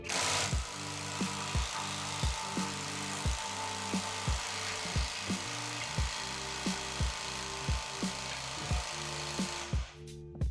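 A GISAM 1800Nm impact wrench on its highest setting loosening a nut, a continuous loud mechanical whir punctuated by regular hammering impacts about twice per second for roughly ten seconds before it stops.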